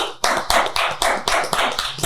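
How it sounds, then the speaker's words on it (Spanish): Clapping in honour of a doctor, sounding as sharp, evenly spaced beats about four per second. The claps are close and loud, as if from a single person or a small group. "pido un fuerte aplauso para la doctora Lisandra Hernández"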